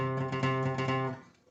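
An acoustic guitar plays a fast hammer-on and triplet-picked phrase from a fiddle-tune style rag, a short bright run of notes that rings briefly and fades out.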